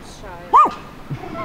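A small pet dog out on a walk in a town in Russia's Kaliningrad region gives one short, sharp bark close by, with people chatting around it before and after.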